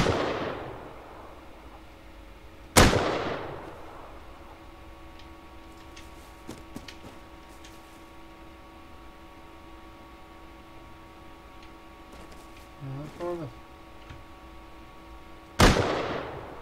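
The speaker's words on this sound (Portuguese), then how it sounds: "Será que três tiros de Python mata o cientista?" Python revolver shots ring out in a Minecraft game, two sharp loud cracks far apart, with quiet game ambience, a faint steady tone and small clicks in between.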